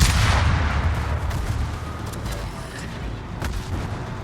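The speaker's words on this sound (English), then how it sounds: "It's the Numancia, the Spanish cruiser, and he's going to hit me with AP from his reload booster." Heavy naval gunfire in a warship video game as the Spanish cruiser Numancia fires armour-piercing shells. A loud, sustained rumble of cannon booms blends into a continuous roar with no distinct separate shots.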